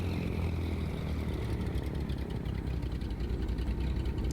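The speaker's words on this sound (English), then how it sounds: "We'll press the left engine starter button." The left piston engine of a Chancellor twin aircraft cranks and starts in Microsoft Flight Simulator 2020, giving a steady, dense mechanical drone with a low rumble, loud and continuous throughout.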